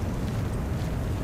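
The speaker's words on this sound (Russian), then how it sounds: "Кидаю гранату!" A grenade blast in the shooter game Warface, heard as a dense, sustained low rumbling roar with no sharp transient, loud and close with no other sounds on top.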